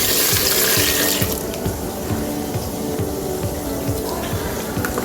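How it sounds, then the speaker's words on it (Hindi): Water gushes steadily, a continuous splashing rush filling a pot of beef haleem, loud and close without pause. "3 कप और प्योर हम पानी डाल रहा हूँ इसमें।"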